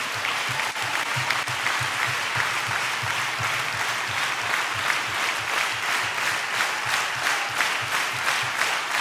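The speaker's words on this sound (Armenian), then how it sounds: "Եկեք ծափարենք տիրոջը" A church congregation claps together in a steady, even rhythm, a dense crowd of hands sustained throughout with no voices standing out.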